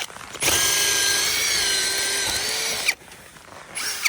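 A large ice auger bores through thick lake ice with a steady, loud mechanical whine for a couple of seconds, then cuts off, briefly restarting at the end.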